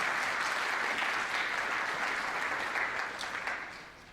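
Audience applause at a university symposium session, a dense, even wash of clapping that holds steady and then tapers off toward the end.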